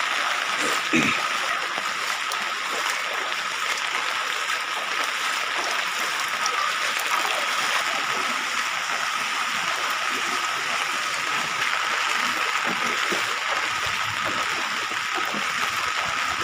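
Flood water rushing and splashing through a flooded street in Silchar after a day of heavy rain, a constant broadband wash of flowing water filling the whole stretch with little variation.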